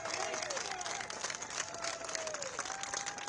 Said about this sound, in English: let's have a round of applause for those who went to the prison